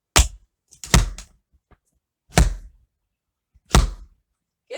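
Tap dance heel drops on a hard floor make four sharp, isolated thuds, the second landing as a quick double hit, spaced out with silence between them.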